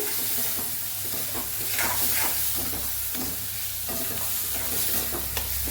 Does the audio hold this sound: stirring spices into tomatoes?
yes